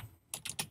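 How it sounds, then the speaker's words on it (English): Someone types code on a computer keyboard, a short burst of about four quick, close key clicks after a brief pause. "So we're going to type public int"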